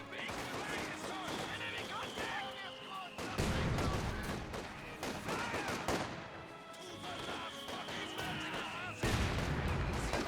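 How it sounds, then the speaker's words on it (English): Dense battlefield gunfire in Company of Heroes 2, with an MG42 machine gun suppressing infantry, rattling bursts mixed with other shots and explosions throughout, loud and continuous under speech. "We do have the MG42 suppressing down the penal squad."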